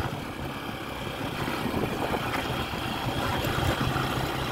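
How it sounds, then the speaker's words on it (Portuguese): A semi-trailer truck drives ahead on a dusty dirt road, its engine a low steady rumble heard from a distance, with no voices over it. "Isso é uma carreta indo na frente"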